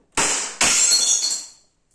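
A scored glass pane from traditional patio doors cracks in a sharp snap, then breaks fully in a bright, ringing shatter that fades over about a second, with no talking.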